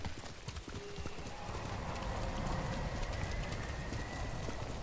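Horse hooves gallop in the video game Ghost of Tsushima, a steady, close, rapid clip-clop rhythm over a dense bed of ambient wind and environmental noise, with an occasional whinny and no talking.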